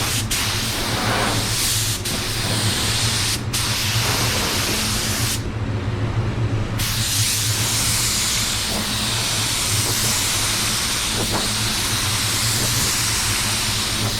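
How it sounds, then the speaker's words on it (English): A 3M Performance spray gun sprays paint in a steady, loud hiss that runs almost without a break. A low hum sits under it, with a short pause partway through. "I like the way it's spraying. It's just, I don't know how to describe it. It's atomizing it really well."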